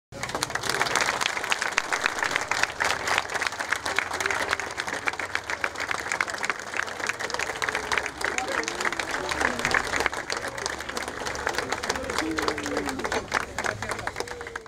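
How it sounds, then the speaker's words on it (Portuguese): A warm round of applause at a funeral in Maranhão, Brazil: dense, continuous clapping from a gathered crowd that stays loud and steady for the whole stretch, with voices mixed into the sound. "Todos se despediram com uma calorosa salva de palmas."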